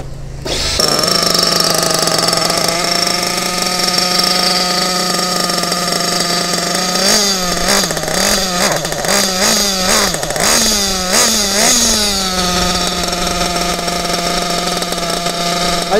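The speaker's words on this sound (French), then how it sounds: "là je vais démarrer le moteur" A small high-revving RC nitro engine idles steadily and loudly, its buzzing pitch wobbling up and down through the middle before settling into an even drone.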